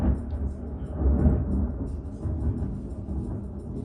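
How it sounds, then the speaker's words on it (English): Low, rolling thunder rumbles steadily in the distance in Atlanta, Georgia, a deep continuous grumble with no talking over it. "Y'all hear the thunder?"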